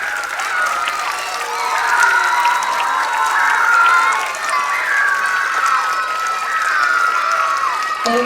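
Young students at a kindergarten-to-second-grade Veterans Day school assembly clap and cheer for the veterans, a long, loud wash of applause layered with children's shouts and squeals, dropping off abruptly at the end.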